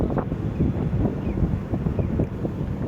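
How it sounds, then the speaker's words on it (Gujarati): Strong stormy wind on an open road buffets the microphone in heavy, low, rumbling gusts, a continuous roaring rush with no talk. "પવન પણ છે મારા વાળ તો બધાય વધી ઉડી ગયા"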